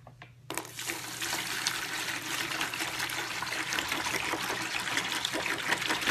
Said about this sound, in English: so that it doesn't sit on top of the water when I add the water